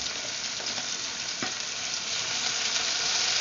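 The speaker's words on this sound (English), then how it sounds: "add the banana blossom." Banana blossom sizzles with softened onion in a pan for a Filipino frog-leg kare kare, a steady close frying hiss with a faint scrape or two, no voices.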